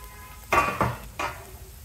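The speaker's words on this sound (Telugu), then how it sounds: "కొంచెం వేయించుదాం." Finely chopped beans and green peas fry in a little ghee, a steady sizzle close by, broken by a few scraping spatula strokes across the pan, with no voices.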